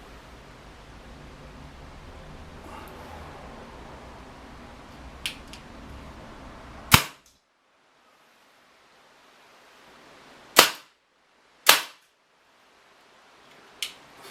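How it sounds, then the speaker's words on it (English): Airsoft DL-44 blaster replica firing test shots, a few sharp loud cracks spaced apart after quiet handling noise, each shot isolated and near, with silence between. "you don't think I'd let you go without a test shot"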